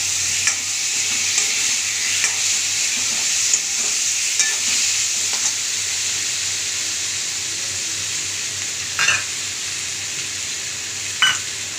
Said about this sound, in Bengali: এবার লঙ্কা আর টমেটো পেস্ট করে রেখে সেটা দিয়ে দিলাম। এইটাকে ভালো করে সঙ্গে কষে নেব।